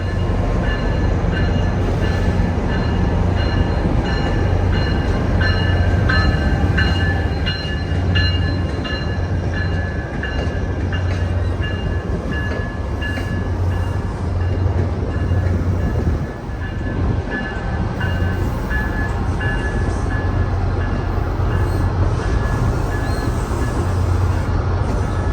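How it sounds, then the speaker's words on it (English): A New Jersey Transit ALP-45DP dual-power locomotive at Hoboken, powered by two Caterpillar 3512C HD engines of 2,100 horsepower each, gives a loud, steady diesel drone with a constant low hum that holds throughout. "They are powered by 2 Caterpillar 3512C HD engines that can work independently of one another if there is a problem or under low load."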